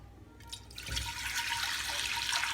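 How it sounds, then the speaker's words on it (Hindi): Water gushes and splashes steadily into a metal pressure cooker, a continuous bright pouring sound close by with no talking. "इस तरह से कुकर के अंदर में"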